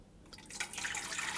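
Water poured into the bowl of an Ankarsrum stand mixer for rye sandwich bread, a soft trickling splash that builds steadily, faint and close, with no talking.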